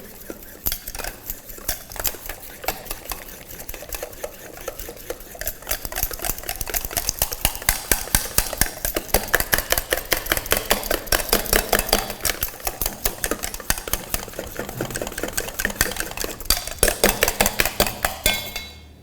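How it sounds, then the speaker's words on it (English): Rapid rhythmic clattering of a utensil against a pan while an egg, sugar and corn flour tart filling is mixed, steady and close, growing busier and louder toward the end with no talk. "Mix it well. We don't want any lumps into it."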